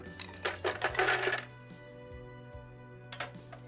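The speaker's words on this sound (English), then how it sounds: "Now we'll add in the ice." Ice cubes clatter into a blender jar for a garden fresh cocktail with Worcestershire and hot sauce, a quick burst of hard rattling clinks up front, then quieter scattered knocks fading into a low hum.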